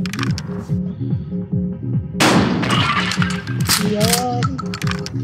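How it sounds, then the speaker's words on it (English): A shotgun blast in the game Buckshot Roulette: one loud, sharp boom cracks out midway over a pulsing music track, followed by rattling clatter and game effects. "I would go ahead and shoot him."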